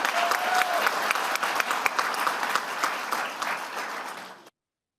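Applause at a school governing board meeting for an honored staff member, a room of people clapping briskly with some individual sharp claps standing out, fading slightly before cutting off abruptly.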